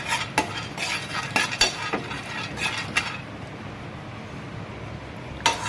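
Pumpkin seeds roasting lightly in a pan for laddu, with a sharp scraping stir and clinks of a spatula repeating steadily, then easing into a quieter faint rustle and one last near scrape.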